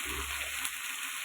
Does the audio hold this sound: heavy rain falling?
no